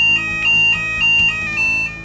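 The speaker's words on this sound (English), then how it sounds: "You might hear a local fire bell within buildings." A local fire bell inside a building sounds a repeating electronic ringing tone in quick even pulses, clear and alone.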